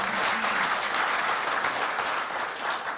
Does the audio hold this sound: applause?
yes